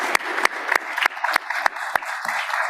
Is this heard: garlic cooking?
no